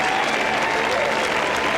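Golf gallery at the 1996 Players Championship applauding and cheering for a player, a steady wash of clapping from a large outdoor crowd throughout.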